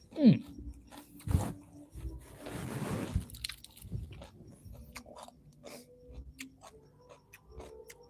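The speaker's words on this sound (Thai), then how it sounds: "มากินต่อเลย" Chili paste with minced pork and pork cracklings eaten up close, with irregular crunchy bites and wet chewing, occasional clicks, and a brief vocal sound at the start.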